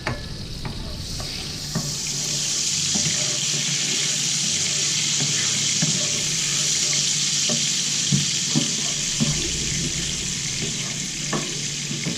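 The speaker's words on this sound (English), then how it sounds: "Get that butter and oil melted, and we are using about 2/3 heat on here" Butter and oil melting and sizzling in a pan over a little more than medium-high heat, a steady frying hiss with occasional clinks and stirring taps, close and continuous without any voices.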